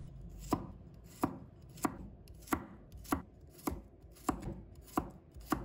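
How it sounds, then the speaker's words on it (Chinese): A knife slices garlic on a cutting board in nine evenly spaced, crisp chops, each a sharp tap against the board, quiet and close with no talking. "再准备1把大蒜，把它切成片，"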